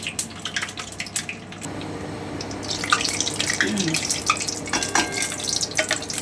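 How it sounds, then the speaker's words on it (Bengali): Warm water poured over coriander powder while cooking chicken changezi, a steady close trickle of running water that swells and splashes before fading. "আমি ধনে পাউডারটাকে একটু জল দিয়ে সামান্য একটু গরম জল দিয়ে ধুয়ে নিচ্ছি"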